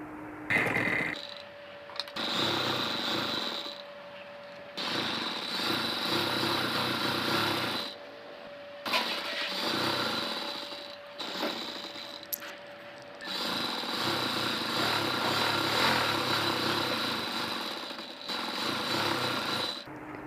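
A sewing machine runs in short bursts while stitching the side seam of a child's umbrella-cut baby frock, with a steady mechanical whir broken by brief pauses, close and moderately loud.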